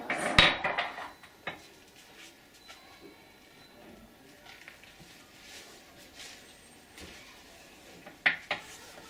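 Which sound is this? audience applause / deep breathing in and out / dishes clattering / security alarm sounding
dishes clattering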